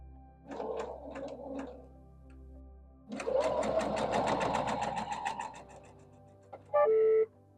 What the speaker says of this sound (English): and then I'm just going to start sewing.